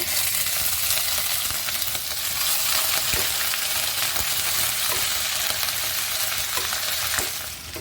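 Ginger paste sizzles loudly in hot oil in a pan with cinnamon, small cardamom and bay leaves, a steady frying hiss broken by a few clicks of stirring, close and with no talk.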